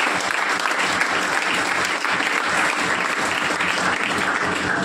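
Enthusiastic audience applause during a lively maths class, a thick, even wash of many hands clapping at steady loudness throughout, with no voices over it.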